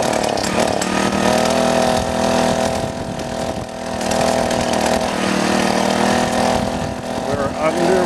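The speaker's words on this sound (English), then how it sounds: "the engine definitely helps it out" Small engine on a motorized side-by-side tandem bicycle runs steadily with a buzzing, chainsaw-like drone, close and loud throughout, with slight dips in level as the ride continues; wind and road noise mix in.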